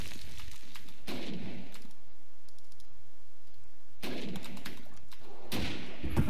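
Call of Duty 4 multiplayer on the Invasion map: a few loud booming blasts spaced a couple of seconds apart, with sharp crackling gunfire bursts between them and a low rumble in the background.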